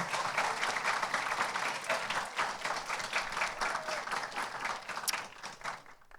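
A crowd at a basic school graduation ceremony in Tallinn claps continuously, a thick, close wall of applause that tapers slightly toward the end, with no talking.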